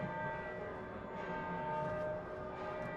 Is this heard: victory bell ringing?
yes